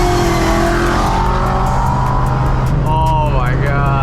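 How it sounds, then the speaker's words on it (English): A JDM car shreds its tires at a UAE car event, a loud, continuous engine roar with rising and falling revs and a squealing edge, close by and filling the whole moment. "shredding tires is a universal language"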